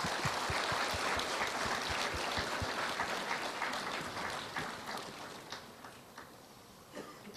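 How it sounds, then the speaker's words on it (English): Audience applause from students at a memorial lecture hall, a dense patter of many hands clapping that gradually thins and fades out toward the end. "Let's clap for ourselves."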